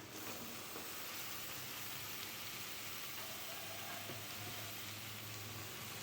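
Cabbage and other vegetables fry in a pan, giving off a soft, steady sizzle and crackle that holds evenly throughout, faint and with no voices.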